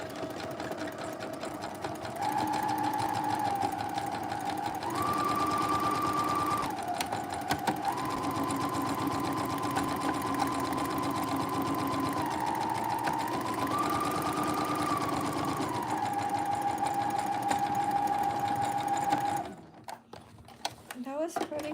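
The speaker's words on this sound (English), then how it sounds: "now I can sew it together" A sewing machine stitches fabric in a steady, close mechanical whir whose pitch shifts as the speed changes, running for most of the stretch before stopping near the end.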